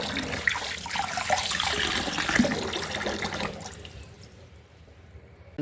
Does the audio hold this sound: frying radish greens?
no